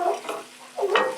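Oil sizzles in a pan during Kenyan home cooking. A short, soft hiss of frying lasts about a second, with stirring noises on top.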